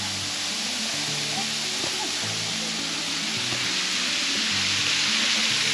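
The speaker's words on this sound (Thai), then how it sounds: "นี่ครับทุกคนน้ำตกถ้ำใหญ่สวยงามมาก" Tham Yai waterfall at Phu Kradueng gives a steady, dense roar of falling water, constant and enveloping throughout with no breaks.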